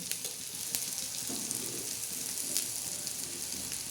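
Soft steady sizzling with a gentle watery hiss, close and quiet, as water is poured into hot spiced masala in a pan.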